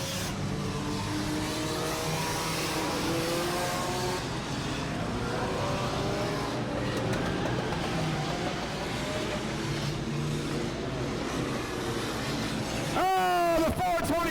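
Race cars roaring around the Auburndale track during an enduro race, a steady drone of engines under an announcer's continuous commentary, with a louder voice burst near the end.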